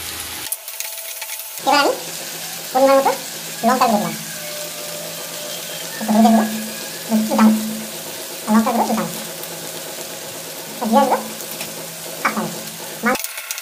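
Chopped tomatoes go into a pan of reddened onions frying with garlic, ginger and chilli pastes, giving a steady soft sizzle with stirring scrapes, while a voice speaks in repeated bursts over it.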